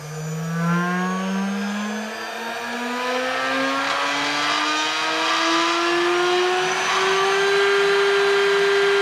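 A rotary tool fitted with a rescue bit spins up and holds near 12,000 RPM, a loud, steady whine that rises slowly in pitch as it gains speed, with no voices.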